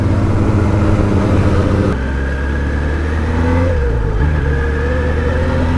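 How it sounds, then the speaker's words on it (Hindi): Kawasaki Ninja ZX-10R motorcycle exhaust note while riding: a loud, sustained engine drone whose pitch holds, dips with a gear change around the middle, then climbs again, close and unbroken by speech. "एंड इसका एग्जॉस्ट नोट गाइस मैं पहली बार आज सुन रहा हूँ"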